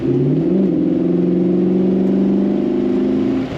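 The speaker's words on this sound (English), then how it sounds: "Lots of power from that motor. Let's hit the throttle a little bit." A 1958 Chrysler 300D convertible engine revs hard under throttle, its pitch climbing and holding in a loud, sustained roar. The note stays close and continuous for a few seconds before easing off, with no talking.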